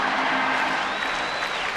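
Stadium crowd gives sustained applause and cheering for a baseball player's first big league at-bat base hit, a dense continuous roar of clapping throughout.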